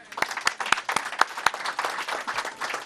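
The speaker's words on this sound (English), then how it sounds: "Let's give Peter a round of applause" An audience at a book event applauds for Peter Buffett, a fairly close round of many hands clapping with a few sharp, prominent claps standing out in an uneven rhythm.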